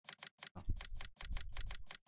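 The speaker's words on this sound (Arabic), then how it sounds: "تسمع الكيبورد كيف يتناقع يا ريال" Rapid sharp clacks of keyboard keys in a quick uneven run of presses, close and fairly quiet, with a soft low thud partway through.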